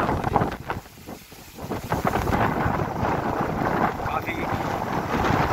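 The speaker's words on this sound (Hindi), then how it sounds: "तेज हवाएं जो है इस समय चल रही है और इस सीज़न की ये पहली जो है आंधी है।" Strong gusting wind of the season's first dust storm in Sirsa roars steadily and loud against the microphone, with a brief spoken word near the start.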